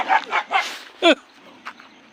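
A dog barks a few times in quick succession nearby, short sharp yelps at moderate loudness, with a fainter bark afterward.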